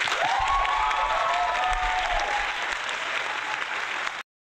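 Steady applause from a crowd used as a sound effect, loud and continuous for about four seconds before cutting off abruptly, with no talking over it.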